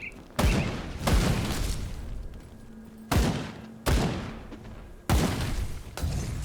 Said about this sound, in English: Let's throw a grenade at him.